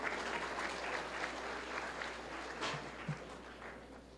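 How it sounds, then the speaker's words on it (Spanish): An audience applauds steadily, a dense patter of many hands clapping at moderate volume from start to finish. "Con un fuerte aplauso recibimos al doctor Wilmer Sepúlveda Sepúlveda."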